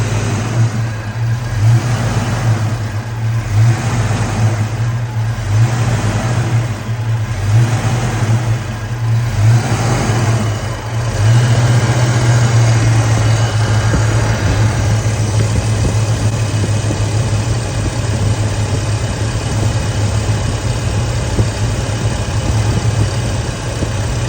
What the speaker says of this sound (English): Give it a minute to smooth out the idle.